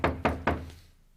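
Three firm knocks on a door in quick, even succession, close and clear, with the last one fading into quiet.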